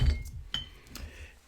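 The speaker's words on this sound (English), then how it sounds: "I got my bar spoon, I'm just going to do a little tablespoon of Benedictine." A metal bar spoon gives a single bright clink against a cocktail glass while a tablespoon of Benedictine is measured for a Singapore Sling. The clink is near and short, with faint handling sounds around it and no talk.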